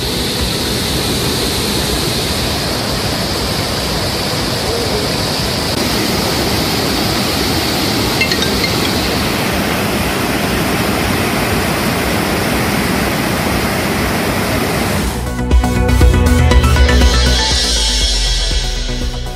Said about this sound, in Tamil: அருவிகளில் ஆர்ப்பரித்து கொட்டும் நீர்.